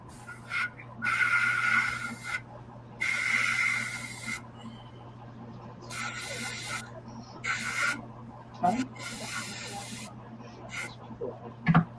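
Short hissing bursts of spray paint lay skin tone onto the hand of a painted figure, several separate close sprays of a second or so each, with quiet pauses between.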